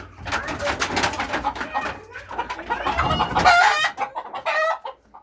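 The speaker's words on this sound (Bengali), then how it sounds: "এই যে তিনটা ফাউমি মুরগি আছে মার্শাল্লাহ" Fayoumi chickens in a small backyard poultry project cluck and squawk in quick, close bursts, with people talking over and between the calls.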